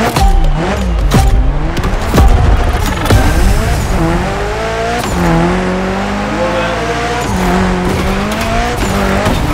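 Car tires squealing and skidding during a Gymkhana event in the racing game The Crew Motorfest, loud sustained screeches with engine revving throughout, rising and falling as the car slides.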